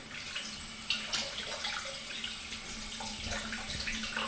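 Running tap water steadily streams over freshly peeled potatoes being washed in a kitchen sink, a continuous close splashing rush with small bursts as the potatoes are turned under the flow, no talking.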